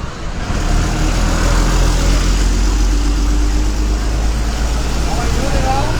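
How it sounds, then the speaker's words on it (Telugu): An APSRTC Karakatta bus near Repalle idles and rumbles with a deep, steady engine drone, loud and close, while traffic noise and faint voices sit in the background. "కరకట బస్సు వస్తుంది"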